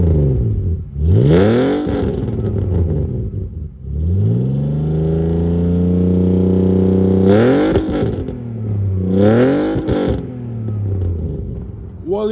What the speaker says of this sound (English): this makes the 6-cylinder sound so much better